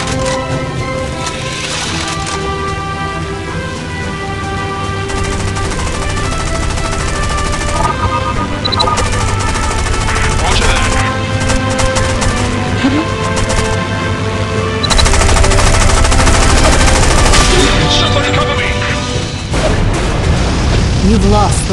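Gunfire from aircraft in a War Wings multiplayer dogfight on iOS, continuous loud rattling bursts over engine drone and music, with radio-style voice callouts.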